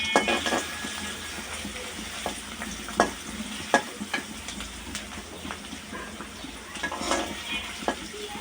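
Onions frying in a pan as a seasoning base for a Bangladeshi gourd-greens dish, a continuous close sizzle broken by frequent spatula scrapes and clinks against the pan.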